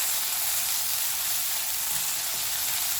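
Chopped tomatoes sizzle on high flame in a hot pan, giving a steady, close, bright hiss that continues evenly without pauses.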